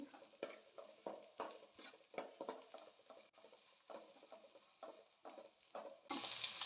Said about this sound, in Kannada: ಇದಕ್ಕೆ ಕಟ್ ಮಾಡಿರೋ ಸ್ಲೈಸ್ ಮಾಡಿರೋದು ಆನಿಯನ್ ಹಾಕ್ಕೊಳ್ಳೋಣ. ಚೆನ್ನಾಗಿ ಫ್ರೈ ಮಾಡ್ಕೊಳ್ಳೋಣ.